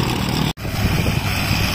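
Paradise light aircraft engine during takeoff, a loud, steady buzzing drone that is briefly cut by a split-second dropout and then resumes at full strength.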